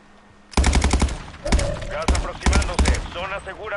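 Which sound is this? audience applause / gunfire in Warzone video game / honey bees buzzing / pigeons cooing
gunfire in Warzone video game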